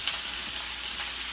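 Food frying steadily in a home-kitchen pan, a continuous close hiss and crackle at low volume with no voices.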